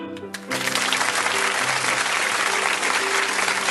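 A theatre audience in Samsun bursts into loud, sustained applause for a theatre group taking the stage, a dense roar of clapping starting abruptly after a brief moment of quieter sound.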